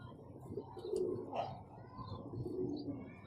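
Pigeons with clipped wings, held in the hand, give soft, low cooing and rustling up close throughout, with no talk.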